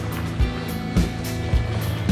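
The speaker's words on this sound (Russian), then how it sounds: "Катер идет примерно 15 минут." Motor boat crossing open water toward Bandos island in the Maldives, a steady engine drone with hull slaps against waves recurring about every half second, close and fairly loud, no talking.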